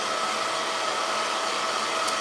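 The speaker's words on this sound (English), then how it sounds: "It is drying fast, but this blow dryer is the truth." Blow dryer running on a quick weave hair install, a steady broadband whooshing hiss that holds at constant level throughout, close and alone with no talk.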